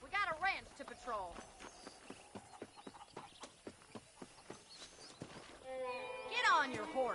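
Horse hooves clip-clop at a walking pace on a ranch in the Western video game Red Dead Redemption, steady and fairly near under frequent talk and some whinnying.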